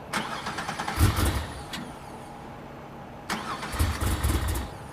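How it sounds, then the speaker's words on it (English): A Camaro with a swapped 700-horsepower engine cranks and catches twice on a cold start, each attempt a short rough burst of engine rumble separated by a quieter lull, recorded close up. "We'll have to work on the cold start a little bit."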